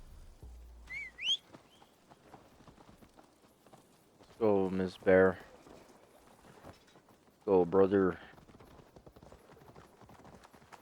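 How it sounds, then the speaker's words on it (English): Horse hooves clip-clopping in Assassin's Creed Valhalla, a light, regular patter of steps under the game's ambience, with a brief whistle and two short bursts of character speech. "They didn't even bother to change the horse hoof noises."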